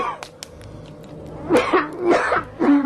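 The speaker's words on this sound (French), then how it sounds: "Il tousse, il a froid." A man coughs several times in short, harsh bursts, nearby, with small clicks and quiet background beforehand.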